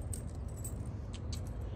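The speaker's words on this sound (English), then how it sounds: "the trunk key" A ring of car keys, including the trunk key, jingles and clinks softly at close range, a few brief metallic taps over a low background rumble.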